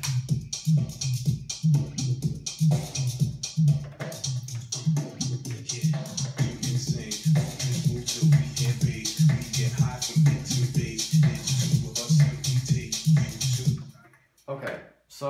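Original mix of a vocal dance track, a steady four-on-the-floor kick thumping under bright hi-hats and a sung vocal, loud and continuous before cutting out near the end.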